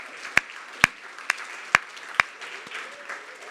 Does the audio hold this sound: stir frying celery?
no